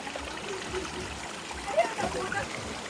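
A mountain stream of clear mineral water flows steadily in a soft, continuous wash with a faint splashing trickle close by, no voices over it.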